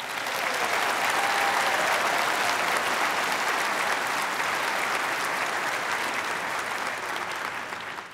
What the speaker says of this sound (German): Sie verdienen einen kräftigen Applaus.